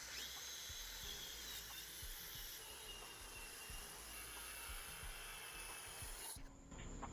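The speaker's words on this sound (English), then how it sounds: "Next, we're gonna make a 6-inch rip across our board." A power saw ripping a steady six-inch cut through a wood and epoxy board, a constant high whining buzz with a hissing edge that holds for several seconds before cutting off abruptly near the end.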